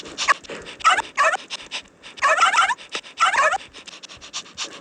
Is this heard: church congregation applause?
no